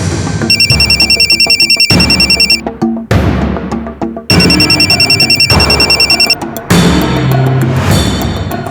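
A phone rings unanswered, its loud electronic ring pulsing in repeated bursts with short gaps between them and no one speaking.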